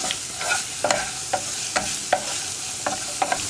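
Mango curry thick with masala is stirred in a pan, a spoon scraping in a steady rhythm of about ten distinct strokes over a soft sizzling bed, close up and without speech.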